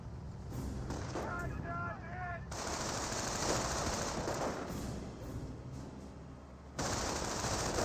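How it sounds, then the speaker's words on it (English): Sustained autocannon fire in the World War II strategy game Company of Heroes, with dense rapid bursts and explosions rolling over several seconds in a loud battle mix, with a brief voice line early on. "Rifle squad now receiving some auto cannon fire."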